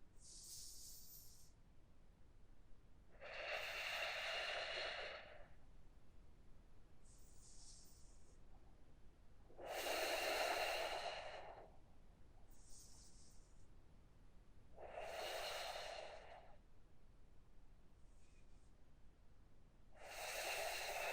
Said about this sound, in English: Deep breathing through the nose for the next 5 breaths.